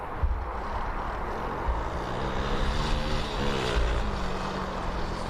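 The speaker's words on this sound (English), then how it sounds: "departing next is Ryanair" A Ryanair airliner departs from Birmingham Airport bound for Barcelona, a steady distant engine rumble and whine that swells slightly in the middle, alone without voices.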